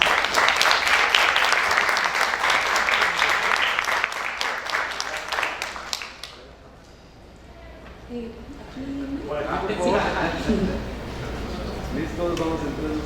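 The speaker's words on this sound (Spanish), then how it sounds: "les pedimos al público un aplauso para ellos" An audience applauds the candidates at a forum for Distrito Central deputy candidates in the 2023 elections. The clapping is full and loud for about six seconds, then fades, and people talk afterward.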